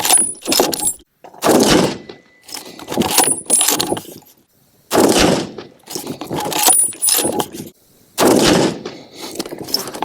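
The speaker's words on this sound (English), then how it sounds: "take a shot at that little sunscreen bottle down there" Remington 770 bolt-action rifle fired outdoors at a small sunscreen bottle target, heard as several sharp, loud reports spaced a second or two apart, each followed by a brief ringing decay.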